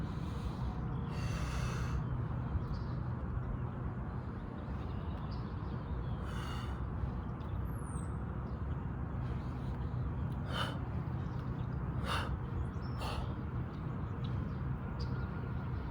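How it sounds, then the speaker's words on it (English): Slow, steady qi gong breaths, inhaling and exhaling in long gentle waves over a constant low background hum, with a few faint brief clicks; no talking. "Add the breath, inhale, exhale"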